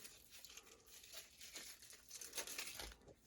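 A wrapped pack of game cards is torn open, giving soft, close crinkling and tearing of the wrapper in short, irregular bursts.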